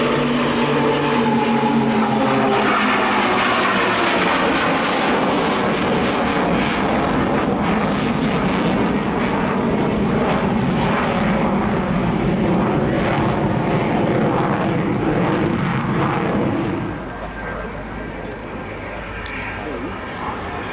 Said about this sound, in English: A flight path with the F18 Hornet jet fighter with 9 Pilatus PC-7 training aircraft.